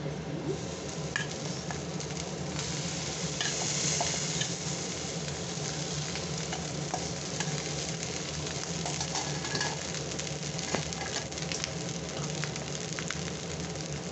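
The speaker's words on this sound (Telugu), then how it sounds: "రైస్ వేసుకొని చక్కగా కలిపేసుకుందామండి." Jeera rice is stirred and fried in a pan, with a steady sizzle and scraping, turning sounds going on continuously at close range and no talking over it.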